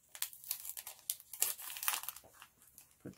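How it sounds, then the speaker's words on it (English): Dollar Tree plastic bag packaging is ripped open along the side, making close, crackly crinkling and tearing noises that come in irregular bursts for about three seconds, with no talking. "I guess we're just going to rip it open along the side."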